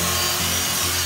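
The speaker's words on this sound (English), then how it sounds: "now we got our titanium exhaust here. We're going to drill again." A steady, continuous grinding drill sound boring into a titanium exhaust, close and loud, with a constant hum and no pauses or voices.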